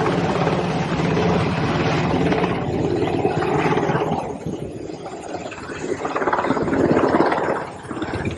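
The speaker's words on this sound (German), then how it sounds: "das ist ein Black Hawk Hubschrauber des österreichischen Bundesheeres" An Austrian Armed Forces Black Hawk helicopter's heavy rotor roar fills the air, loud and close, swelling and fading slightly as it passes with a rumbling, buffeting wash.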